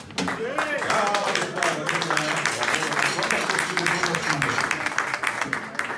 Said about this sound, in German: Bitte Applaus